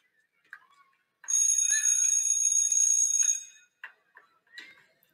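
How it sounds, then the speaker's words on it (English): School bell ringing for the end of recess, a bright electric bell sounding continuously for about two seconds, with faint clicks and short knocks before and after, no talking. "I can hear the school bell."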